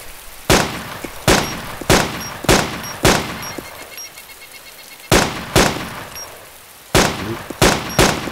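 Gunfire in the survival video game DayZ: about a dozen loud, sharp shots come in uneven bursts and single cracks, each followed by a short ringing tail, with no voices.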